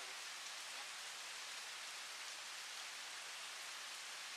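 Steady rain falls continuously near hot springs in Rebak, Bangka Barat, a dense, even hiss of drops with no breaks or voices.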